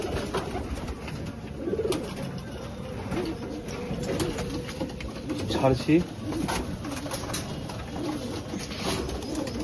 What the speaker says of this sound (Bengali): এসব বাচ্চা পায়রা চিঁচি করছে,